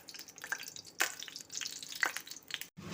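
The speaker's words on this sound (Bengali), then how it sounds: "বড়াগুলো ছাড়তে শুরু করে দিয়েছি এইভাবে ছোট্ট ছোট্ট করে" Chana dal batter fritters sizzle and spit softly in hot oil in a kadai, with scattered crackles and pops close by and no talking.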